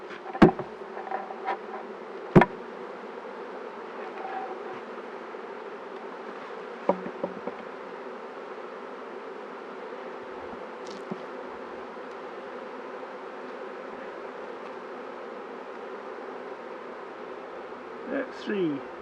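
Honey bees buzzing steadily during a full beehive inspection, a continuous dense drone close by with a few brief knocks and clicks of hive handling.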